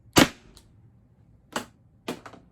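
A Pepperball TCP gun fitted with a 6-inch Lapco barrel fires a single sharp shot up close, followed by two quieter pops about a second and a half later.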